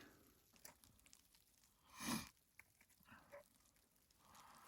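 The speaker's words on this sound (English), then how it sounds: "I haven't heard anything but a dog barking over there." A single faint dog bark rings out far off, followed by a few softer yips, over quiet outdoor background noise before dawn on winter public land in Colorado.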